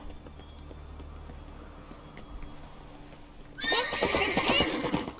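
A horse in The Witcher 3 whinnies loudly and close after a quiet stretch, a shrill neigh with hoof clatter mixed in, rising abruptly near the end and filling the last seconds.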